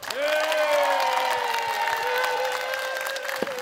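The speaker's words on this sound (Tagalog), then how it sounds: "Parang lahat pumalakpak, Mayor." Studio audience at a barangay audition segment of a Filipino noontime variety show applauding and cheering loudly and continuously, with sustained tonal shouts or whistles riding over the clapping.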